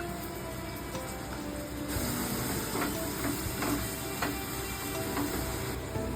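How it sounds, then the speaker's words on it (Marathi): Tomatoes, ginger and chili go into a hot pan for a Marathi-style chickpea and vegetable curry with eggplant, drumstick and potato, giving a steady close sizzle and hiss with occasional soft clinks. "आपण त्याच्यात आता टोमॅटो टाकतोय, त्याचप्रमाणे आला आणि मिरची."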